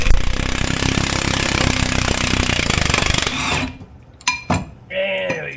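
Rapid, loud mechanical hammering of metal on a Yugo car's brake parts, a dense rattling burst that stops abruptly, followed by a few sharp isolated clinks.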